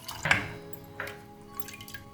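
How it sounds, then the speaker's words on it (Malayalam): Mixed custard is poured into milk in a pan, making close liquid splashes and drips with a stronger splash near the start and a softer one a moment later, then light trickling. "മിക്സ് ചെയ്ത് വെച്ചേക്കുന്ന കസ്റ്റാർഡ് ഒഴിച്ചു കൊടുക്കാം."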